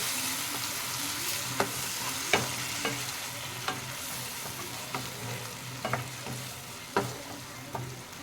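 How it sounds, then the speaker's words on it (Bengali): Grated tomato being stirred into a sizzling spice masala in a pan for an aloo rajma dish, with a steady fry hiss and repeated sharp scrapes and taps of the spoon against the pan. "গ্রেট করা টমেটোটা এখানে দিয়ে দেব। দিয়ে আবারও আমি নেড়ে নেব ভালো করে।"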